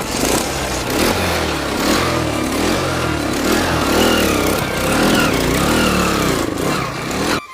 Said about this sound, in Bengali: এই প্রচন্ড খারাপ রাস্তাও এই বাইকটি চলে অনায়াসে।